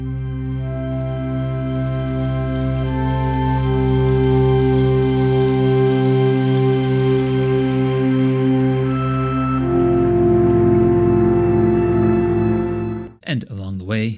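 Sequenced ambient music from an Ambient Zero synthesizer, layered sustained tones and a repeating melodic pattern that shift partway through, loud and alone, ending with a brief abrupt burst of noise.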